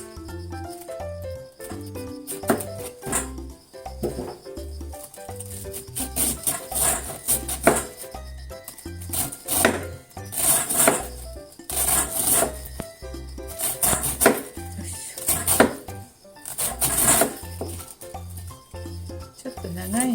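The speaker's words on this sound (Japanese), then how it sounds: "千切りにしていきます" A knife rapidly shreds cored cabbage into fine strips on a cutting board, a steady run of quick, close rhythmic chops with brief pauses, the crisp leaves rasping under the blade.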